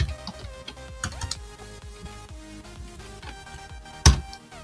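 Someone types on a computer keyboard, producing faint, irregular keystroke clicks over a quiet background, with one noticeably louder key strike near the end.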